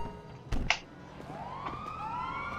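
A police car siren in a GTA role-play video game wails in rising sweeps after a couple of sharp thuds, moderately loud with no talking.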